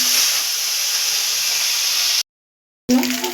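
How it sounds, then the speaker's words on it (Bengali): Hilsa fish heads frying in hot oil, a steady loud sizzling hiss that stops abruptly, then resumes briefly with a clatter. "এবার মাছের মাথাটা আমি একটু ভেজে নেব।"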